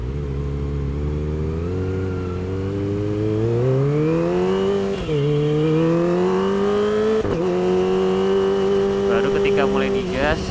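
Kawasaki ZX-25R motorcycle with an aftermarket exhaust, idling and then revving at a red light, a steady close engine drone that climbs in pitch twice in smooth rises with a brief dip between, loud and continuous.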